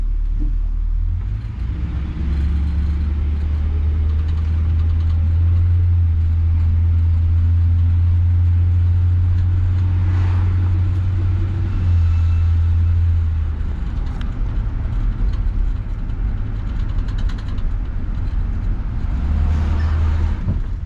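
A 1966 Ford Galaxie 500 with a gutted interior drives along, its engine giving a loud, steady low rumble with road noise that swells and eases slightly, and no one speaks.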